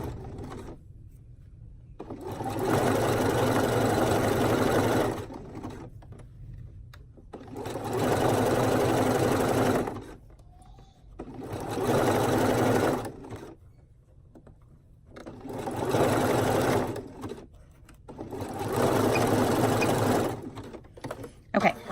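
Sewing machine stitching stretchy swimsuit fabric in five bursts of fast, even whirring, each a few seconds long, separated by short pauses and quiet handling sounds.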